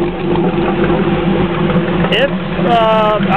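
A 2009 Chevrolet LS3 Corvette V8 on a test run idles steadily with a low, even drone throughout, and a brief higher whine rises over it near the end.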